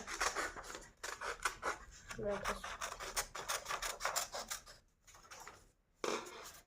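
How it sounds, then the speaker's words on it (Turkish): A Spring Bonnie mask is cut by hand with scissors, giving a series of close scraping snips and rubbing strokes in irregular bursts, with brief pauses and a short silent gap near the end. "Biraz daha kesmem lazım"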